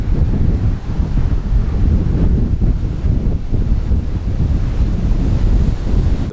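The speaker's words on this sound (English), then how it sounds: "A strong and steady northerly wind churned up the ocean" Strong northerly wind buffeting the microphone over churning ocean surf at a beach, a loud continuous low rumble and wash with no letup and no voices.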